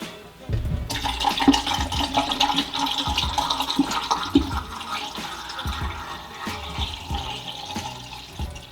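Blix chemical is poured into a color film developing tank at home, making a continuous watery pouring and gurgling sound with a few faint knocks, steady for about eight seconds.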